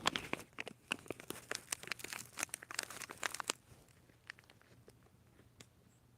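Close, dense plastic crinkling and crumpling in irregular bursts for several seconds, then thinning to sparse faint rustles, with no talk over it.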